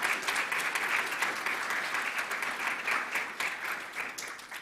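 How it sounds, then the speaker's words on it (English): Conference attendees applaud as a presenting team leaves the stage at a healthcare patient-experience session: a continuous, even wash of many hands clapping throughout. "let's give some applause."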